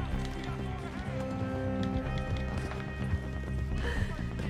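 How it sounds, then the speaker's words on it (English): Horse galloping and neighing in Red Dead Redemption 2, a dense, steady run of hoofbeats with whinnies layered over game music and ambience, loud throughout. "Can you get on the horse, please?"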